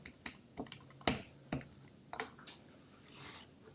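Someone types on a computer keyboard in quiet, close key taps. The clicks come in an irregular sequence with a few sharper strikes.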